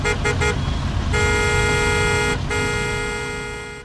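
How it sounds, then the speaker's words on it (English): Car horns honk in short bursts, then a long sustained blare, over a steady rumble of busy street traffic with cars passing close by. "Horns hooted and cars whizzed past."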